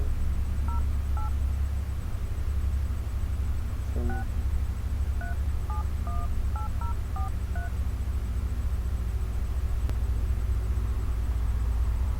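An iPhone places an outgoing call with a run of short telephone keypad tones, about a dozen evenly paced beeps, over a steady low room hum with no talking.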